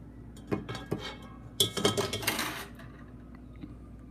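Freshly roasted coffee beans, just out of a cheap popcorn popper, are poured into a metal colander to cool, giving a few light clinks followed by a dense rattling pour of beans, then quiet.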